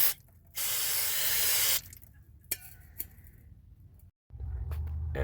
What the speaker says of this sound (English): Got some brake clean here.